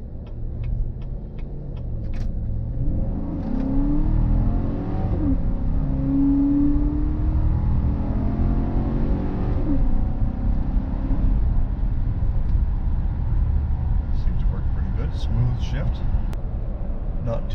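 A heavy vehicle accelerating hard, producing a loud, sustained engine rumble and whir that builds and holds for many seconds, close up, with faint clicks near the end.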